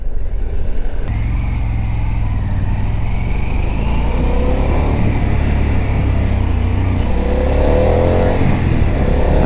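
Harley-Davidson Pan America Special motorcycle, sharing its engine with the Sportster S, pulling away onto open road: a loud, close engine drone that climbs in pitch as it accelerates toward the end, with wind and road noise behind it.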